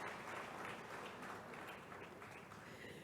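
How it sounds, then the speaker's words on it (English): Faint, distant applause from an anniversary ceremony crowd greeting a musician and his group, steady and continuous throughout. "A round of applause for him."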